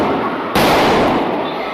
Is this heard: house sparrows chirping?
no